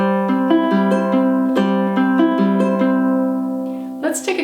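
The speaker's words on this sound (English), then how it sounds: "we're going to apply a Travis picking pattern that sounds like this" Ukulele fingerpicked in a Travis pattern, an alternating thumb-and-finger roll of clear plucked notes in a steady rhythm, close and solo, with the notes ringing together before a brief strummed flourish at the end.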